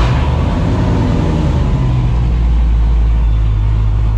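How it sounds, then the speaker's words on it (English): A Dodge truck engine, fitted with an electric fan conversion, starts and settles into a loud, close, low rumbling idle that holds steady to the end. "We'll start the truck back up again."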